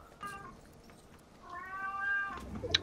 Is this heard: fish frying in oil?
no